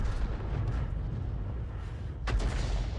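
Steady low rumble of an SU-26 artillery vehicle in World of Tanks, broken near the end by one sudden loud firing blast that rolls off into a lingering boom.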